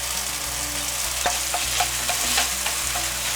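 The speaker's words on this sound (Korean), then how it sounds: "이게 이제 투명해지면 야채를 넣고, 간장 1큰술 먼저 넣고 볶을게." Vegetables stir-fry with a spoonful of soy sauce in a hot pan, a loud, continuous sizzle broken by regular scraping strokes of the stirring utensil, with faint music underneath.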